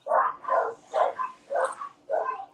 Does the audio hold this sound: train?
no